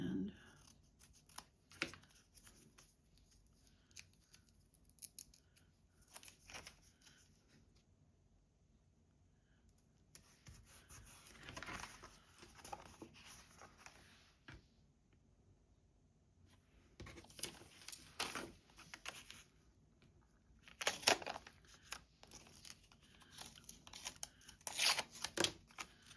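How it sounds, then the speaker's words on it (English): Scissors snip through paper journal cards in short bursts of cutting and rustling, with quiet gaps between and a voice talking over parts of it. "So I'm going to cut at the line"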